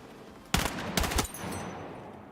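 Automatic gunfire in the video game Battlefield 6: two quick bursts of rapid shots, loud and close, over a steady background of game ambience.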